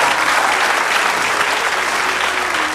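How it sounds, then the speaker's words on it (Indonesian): Studio audience at an Indonesian television talk show breaks into steady, dense applause, loud and sustained for a few seconds with no talking over it. "Tepuk tangan dong."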